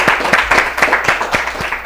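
An audience on a children's TV quiz show claps in a quick, even rhythm, with brisk, moderately loud hand claps and no voices.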